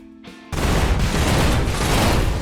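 Sudden loud burst of gunfire from an aimed shot in the tactical war game Kriegsfront Tactics, breaking in after a quiet moment and rolling on as a dense, sustained blast of shots and booms.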